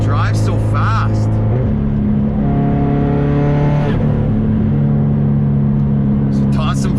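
A modified 500 hp Subaru STI drives hard with a loud, close engine drone that shifts pitch through gear changes, punctuated by crackling exhaust pops, while people talk over it.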